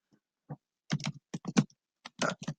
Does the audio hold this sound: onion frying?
no